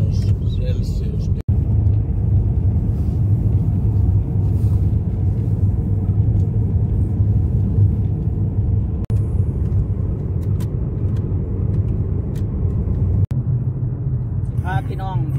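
A car driving on a road in deep winter cold, a steady loud low rumble of engine and tyres running without break, with a couple of sharp clicks and a person talking briefly near the end.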